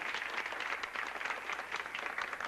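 An audience applauds the mayor at a small evening gathering, with dense, steady clapping from many hands that holds at a moderate level throughout without pause.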